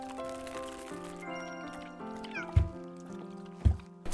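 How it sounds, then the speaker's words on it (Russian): A kitten at an animal shelter meows over music, with brief thumps mixed in; the meows are light and partly masked. "Он меня отблагодарил, такой мяу."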